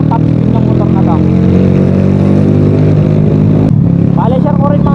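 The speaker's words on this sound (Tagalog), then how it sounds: "tingnan lang muna natin kung ano yung top speed ng motor na to." A Suzuki Smash 115 motorcycle engine on a top speed run, a loud continuous drone with a steady high-revving pitch, a brief shift dip near the end, and someone speaking over the engine noise.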